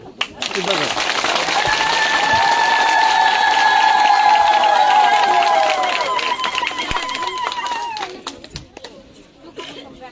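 Crowd applause at an outdoor site visit, a dense steady clapping that swells and holds for several seconds before thinning out, with a raised voice speaking over it through much of the clip.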